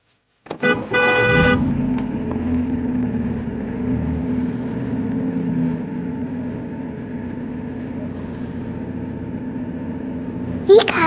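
A toy car horn toots in a short burst of rapid honks at the start, then a steady hum runs under the rest, with a brief toot again near the end.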